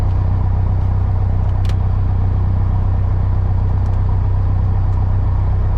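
A Piper Arrow's engine idles steadily before takeoff, a loud, constant droning rumble with a strong low hum and no pauses, heard close from inside the cockpit.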